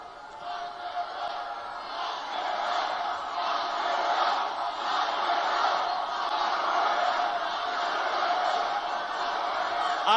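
A large crowd at a Donald Trump rally in Fort Lauderdale, Florida, cheers and shouts in a sustained roar that swells slightly and holds steady for about ten seconds.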